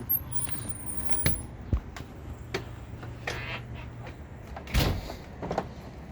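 A door opens onto a back deck amid several sharp knocks and clicks, a sliding scrape and a few handling bumps, close by and moderately loud, with no voices.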